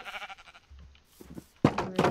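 Sheep bleating in the Minecraft video game, several short calls in a row and then a louder, fuller bleat near the end, with quiet gaps between them.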